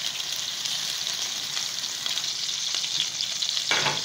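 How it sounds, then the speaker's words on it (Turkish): A spoonful of butter melts and sizzles in a pan before eggs go in for sucuk eggs, a dense continuous hiss running steadily and close, with no talk. "Ben bir kaşık tereyağı koyuyorum."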